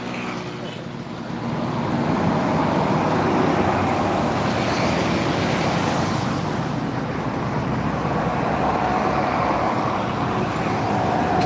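Road traffic with buses and trucks on Jalan Soekarno Hatta in Palembang in the evening: a continuous broadband roar of passing engines and tyres that swells after the first second and stays loud throughout.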